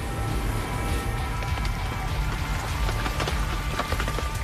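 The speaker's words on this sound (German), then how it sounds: "Nur wenige Kilometer entfernt entfaltet das Gewitter seine volle Wucht." Heavy thunderstorm rain during a violent summer storm with hail and flooding streets, a steady dense hiss of downpour with scattered drop impacts, loud and continuous throughout without speech.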